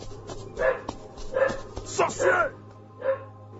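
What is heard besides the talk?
dog barking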